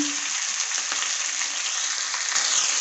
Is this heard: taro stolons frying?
yes